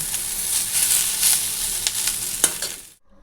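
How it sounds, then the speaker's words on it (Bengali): Potatoes fry with onion, black cumin seeds and dried red chilli, a steady close broadband sizzle with a few sharp spatula scrapes and clicks before it cuts off abruptly near the end. "আর এই যে আলু ভাজা হচ্ছে পেঁয়াজ দিয়ে, একটু কালো জিরে আর হচ্ছে শুকনো লঙ্কা ফোড়ন দিয়েছি"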